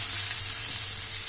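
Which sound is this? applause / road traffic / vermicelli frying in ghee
vermicelli frying in ghee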